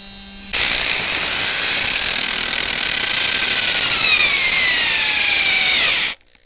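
A cordless drill drives a screw into 2x4 lumber, the motor whining loud and close at a steady pitch for about five seconds, then stopping abruptly.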